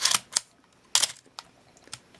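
A Canon AE-1 35mm film SLR fires its shutter at 1/1000 second: a few crisp, close mechanical clicks and snaps with short gaps between them in a quiet room.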